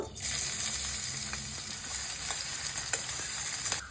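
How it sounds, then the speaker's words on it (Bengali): Chopped onions frying in hot oil for a potato filling, a constant bright hissing sizzle heard up close and alone, with faint stirring clicks now and then. "গরম তেলের মধ্যে কেটে রাখা পেঁয়াজ দেব"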